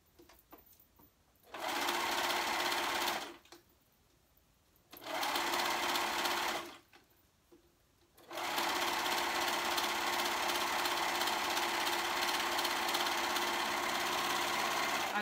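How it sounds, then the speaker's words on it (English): A serger overlocks three fabric edges of a sewing cuff, running in three loud, steady whirring bursts separated by short pauses, the final run lasting much longer. "So I'm just serging your three edges together."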